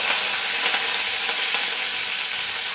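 Whole spices, namely shahjeera, cloves, cardamom, cinnamon and bay leaf, frying in hot oil for mutton keema curry, a bright continuous sizzle with light crackles and faint stirring close by.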